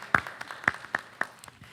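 A few people in a meeting audience clap for a staff member being introduced, sparse separate claps spaced roughly evenly, fairly faint.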